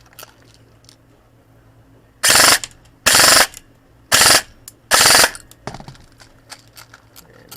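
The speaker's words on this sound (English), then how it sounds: "See if I can get one good burst out of this mag." An airsoft 416 rifle shooting 0.20 g BBs from a high-capacity magazine fires four sharp, loud bursts of rapid shots, close by, with short pauses between them and quiet mechanical handling noises afterward.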